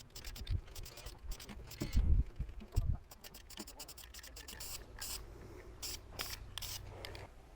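Short hissing bursts of spray paint go onto a C3 Corvette brake caliper during a first light coat: several quick puffs close by, interleaved with low handling knocks.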